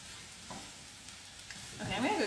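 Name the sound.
mixing sun-dried tomatoes in a sizzling pan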